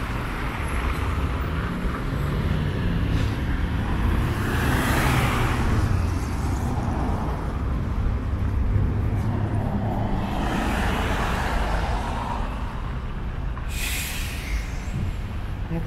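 Moscow city bus on route 909 heading toward Mytishchi, a steady loud low engine drone and road rumble with swelling whooshes of passing traffic throughout, continuous and close.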